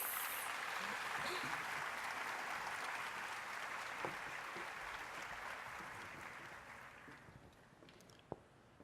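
Audience applause welcomes Dr. Fabio Villarraga Benavides at a Spiritism congress session, a steady, dense clapping that fades gradually toward the end, with no speech over it.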